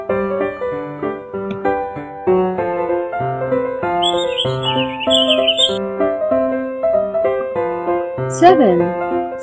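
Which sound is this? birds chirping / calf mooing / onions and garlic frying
birds chirping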